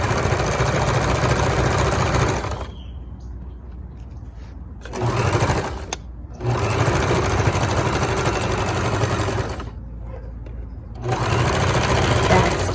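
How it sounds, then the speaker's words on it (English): A sewing machine stitches the back seam of pajama pants with a loud, close, steady whirring hum in three long runs, separated by short quiet pauses. "Now I'm sewing the back at 3/8 inch seam allowance."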